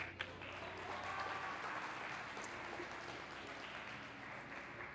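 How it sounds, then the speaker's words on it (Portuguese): Church congregation clapping during a sermon, an even, sustained roar of many hands, soft and somewhat distant, holding steady for the whole stretch without talk. "Aplauda o Senhor Jesus."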